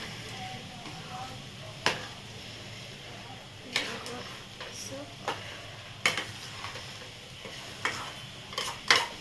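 Semolina sheera being stirred in a pan with ghee, a faint scraping under low kitchen background with occasional sharp clinks of the spoon against the pan.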